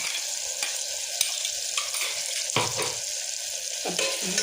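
A garlic, mint and coriander paste fries with onion and tomato in a pan, sizzling steadily while it is stirred. Sharp clinks and scraping bursts from the spoon come at irregular moments, close and clear, with no voices.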